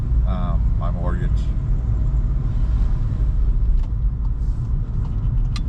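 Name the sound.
car driving at night, road noise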